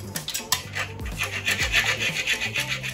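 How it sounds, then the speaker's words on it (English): A metal bolt is cut with a hand metal saw, making repeated rhythmic rasping strokes back and forth, close and moderately loud, with no voices. "So I found a much better way to cut the bolt now, with a metal saw."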